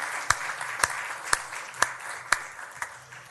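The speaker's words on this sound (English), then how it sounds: "one more round of applause." Slow, spaced claps sound about every half second at a city council meeting, six distinct sharp hand claps over a faint room hum rather than a full crowd ovation.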